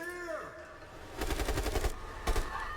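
Gunfire in the video game Swansong: a rapid burst of shots, then a second short volley, loud and close over game music and dialogue.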